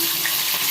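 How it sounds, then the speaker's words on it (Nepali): Onions sizzle briskly as they fry in leftover cooking oil, with a steady hiss and crackle and a hint of stirring through the brief moment. "अब म यही तेलमा प्याज फुल्याउँछु।"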